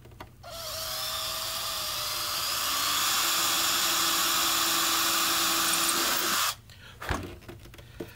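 A power drill bores a 1/8 inch pilot hole into a wooden mountain dulcimer, whining steadily and close for about six seconds before it stops, followed by a few faint handling knocks.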